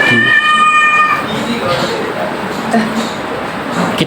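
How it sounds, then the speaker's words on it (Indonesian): A cat gives a short meow right at the start, with people talking close by throughout in an indoor setting. "Sorry ke distract kucing ya guys."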